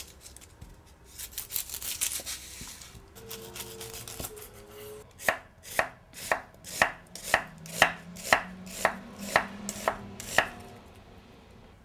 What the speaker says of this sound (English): we can start slicing all the things that go in it. I'm just gonna slice the ends off.